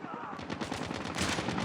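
Rapid automatic gunfire in Call of Duty Mobile, multiplayer Domination on the Tunisia map: a fast, loud burst of shots in a continuous rattling stream, close and dense, with no talk over it.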